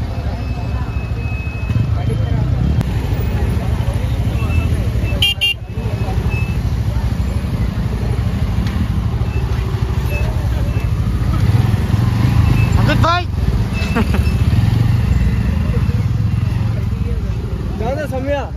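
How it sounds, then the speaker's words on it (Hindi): Dense two-wheeler and car traffic crowding a road near Bedpada, with a steady engine rumble and scattered horn toots throughout, loud and close, while a person talks over it. "बहुत ज्यादा ट्रैफिक आप देख सकते हो दोस्तों यहाँ पर"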